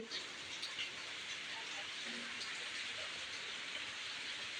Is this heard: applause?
no